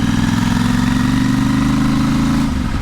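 A Royal Enfield Interceptor 650 fitted with a Short Shot exhaust idles close by, a loud, steady low throbbing burble that stays even throughout and eases slightly right at the end.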